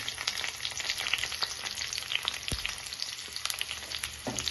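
Sliced onions fry with turmeric and ginger-garlic paste for an eggplant curry, a dense, steady sizzle with scattered crackles and a few scraping stirs, close and with no talking.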